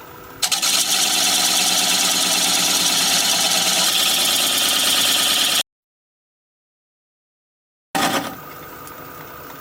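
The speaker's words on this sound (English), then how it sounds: "I'll take a 3/8 inch standard grind bowl gouge and just begin to removing that tenon" A wood lathe turning an end grain bowl at about 600 rpm while a 3/8 inch standard grind bowl gouge cuts away the tenon. It gives a loud, continuous rough whirring scrape that cuts to total silence for about two seconds, then resumes more quietly.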